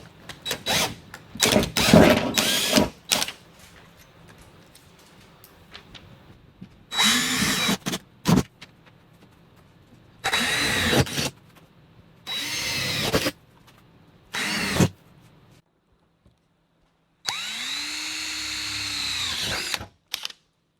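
A power drill cuts quarter-inch pilot holes during a Toyota 4Runner snorkel install, in several loud whining bursts of a few seconds each separated by pauses, the last one spinning down with a falling tone.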